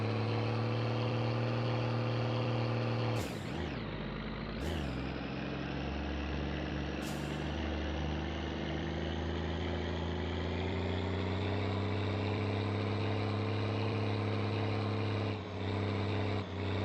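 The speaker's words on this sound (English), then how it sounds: "This thing's got an octuple turbo diesel in there." Octuple turbo diesel truck engine in a winter wasteland survival video game, a loud, steady low droning rumble that holds throughout, broken by a few brief sharp bursts near the start.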